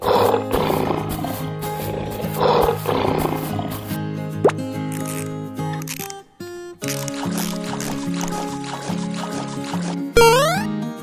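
A cartoon-style lion roar, loud and close, sits over bright background music in a children's animal sound game.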